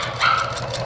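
A small dog gives one short, high yip nearby, set over a steady indoor background hum, with no voices.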